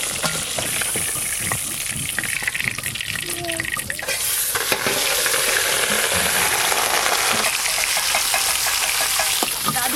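Katla fish pieces frying in hot oil give a loud, continuous sizzle, with scraping stirs and clinks of a utensil against the pan breaking through at intervals, close up and without speech.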